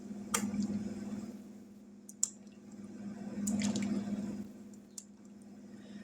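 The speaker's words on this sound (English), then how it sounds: "we're going to drop in some tomatoes" Tomatoes go into a pot of water on a kitchen stove, making a few soft plops and drips in close, quiet succession over a low steady hum.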